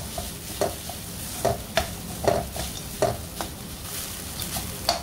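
Grated coconut lightly roasting in a pan, stirred in repeated scraping strokes at a steady rhythm over a soft, constant sizzle, close and fairly loud with no talking.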